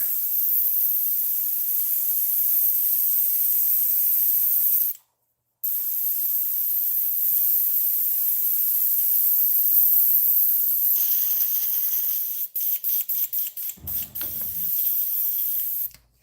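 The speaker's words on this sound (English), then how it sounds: "let's get this airbrush cleaned out here" An airbrush being cleaned out sprays a continuous, loud, close hiss that breaks off briefly once and ends in a rapid series of short sputtering bursts.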